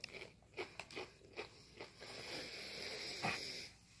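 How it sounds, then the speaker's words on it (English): Crispy chicken strips being bitten and crunched, several sharp bites spaced through the first two seconds, then a steadier close chewing crunch with one more bite, loud and near with no talk. "Crispy, crunchy."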